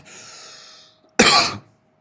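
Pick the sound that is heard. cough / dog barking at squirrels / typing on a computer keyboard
cough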